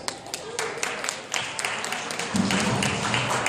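An audience answers with a round of applause, a loose patter of claps that thickens toward the end, with scattered voices underneath.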